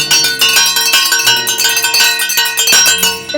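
Several bells in a house ring out loudly together, a dense metallic clangor of overlapping tones that swings on steadily for a few seconds with no talk.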